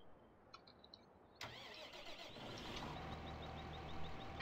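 A tractor engine cranks over and catches in the Farming Simulator 15 video game, then settles into a steady mid-pitched idle that carries on alone to the end.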